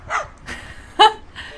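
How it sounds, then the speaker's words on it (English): A dog makes odd bark-like vocal noises, short yelping bursts separated by brief pauses, close and fairly loud, with one sharper bark near the middle. "he learned how to bark"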